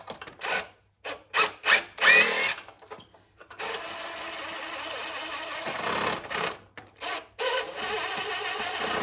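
Metal scraping and clunking as a screwdriver pries at the stuck recoil starter of a vintage Manco Thunderbird minibike, close-up irregular bursts of rubbing and knocks with brief pauses, then a longer steady grinding scrape.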